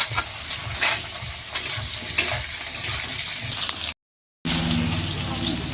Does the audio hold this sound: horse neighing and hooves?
no